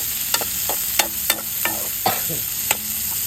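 Squid for adobong pusit sautés in a pan, a steady sizzle punctuated by several sharp scraping clacks of stirring at irregular intervals, close up with no talk.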